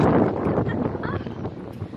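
Strong wind in Manila buffets the microphone with a loud, continuous rumbling roar, and a voice is faintly audible underneath.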